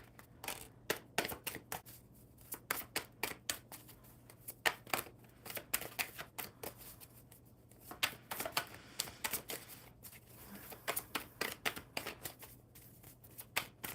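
Tarot cards shuffled by hand in a steady run of quick, crisp riffling bursts over about fourteen seconds, close and fairly loud, with no voices over them.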